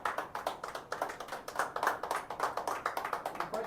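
A small audience claps after a presentation, a quick run of distinct, fairly soft hand claps in a steady rhythm at close range, with no talk over it.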